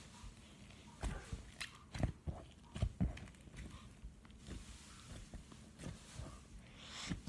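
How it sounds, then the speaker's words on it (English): Crunchy galaxy slime mixed with clay is squeezed and squished by hand, producing a series of close, crackling crunches and soft pops at an irregular pace. "You can even hear how crunchy it is."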